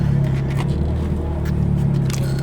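A Chevrolet Cruze 1.8 turbo car on the move, with a steady low engine hum and road rumble inside the cabin and a few faint rattles and scrapes over it.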